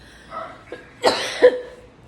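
A couple of sharp, close coughs in quick succession, preceded by a soft throat sound, in an otherwise quiet room.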